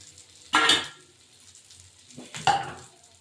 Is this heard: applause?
no